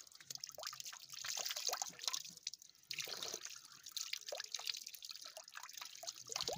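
Spring water flows out of a mountainside, a close, bright splashing and trickling stream with irregular droplet spatters, steady throughout with a brief dip in the middle.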